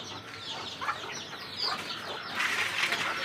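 Soft clucking from several native chickens feeding beside a rooftop garden mixes with rustling and scratching, steady and moderately distant, with no talking.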